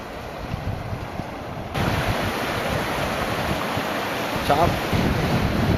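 Loud broadband rush of a stream swollen by heavy rain fills the clip, swelling after a quieter opening, with wind buffeting the microphone.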